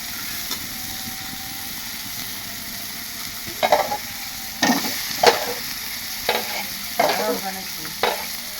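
Curry being sautéed in a pan with potatoes about to go in: a continuous low hiss of frying broken by several louder scraping stirs in the second half, close up, no talking.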